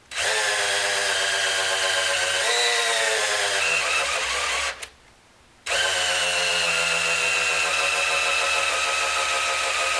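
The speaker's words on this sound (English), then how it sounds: "My drill battery is dying." A cordless power drill with a dying battery whines steadily at high speed, stops briefly for about a second, then starts again and runs continuously, loud and close.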